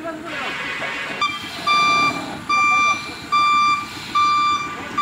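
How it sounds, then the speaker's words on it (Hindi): A truck backing up on a ghat mountain road in Andhra Pradesh, its reversing alarm giving four loud, evenly spaced beeps over engine rumble, with voices talking in the background. "फिर गाड़ी बैक करके वही पॉइंट में ले रहा है गाड़ी।"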